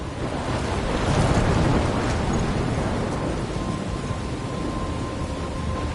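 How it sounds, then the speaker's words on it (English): A thunderstorm in the video game Life is Strange, a dense roar of heavy rain and wind with a swell of rumbling thunder early on, continuous and loud throughout. "I'm trapped in a storm?"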